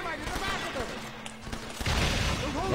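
Revolver gunshots in the Red Dead Redemption video game, a few sharp reports ringing out amid busy game sound and excited talk, with a louder burst near the end.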